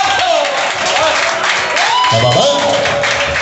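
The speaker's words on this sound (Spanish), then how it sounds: "¡Aplausos!" Audience applause and cheering fill an evening event in Bucaramanga, a dense continuous wash of clapping with whoops, while a voice calls out briefly over the crowd.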